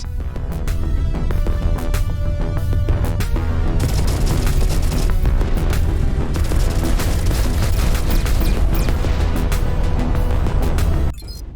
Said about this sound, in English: You may call this a warning shot